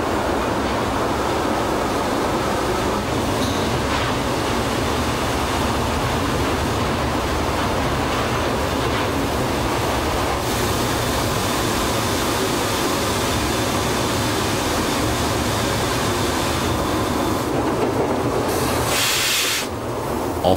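SNCF 141-R-568 steam locomotive and its train coast downhill on the Rouergue line, a loud, continuous rolling rumble of wheels and carriages that stays steady, with a brief dip and change near the end.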